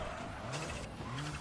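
A Junior WRC rally car in EA Sports WRC, on Rally Sweden, roars with a steady, dense engine drone, its pitch shifting slightly as it runs flat out, with no talk over it.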